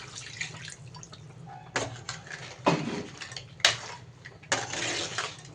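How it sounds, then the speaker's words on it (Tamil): Short bursts of water pour and splash into a pot of drumstick-leaf crab curry, with light clinks of metal utensils between pours, nearby and fairly quiet. "தேங்காய் ஊற்றிட்டு கொஞ்சம் தண்ணி ஊற்றிக்கலாம்"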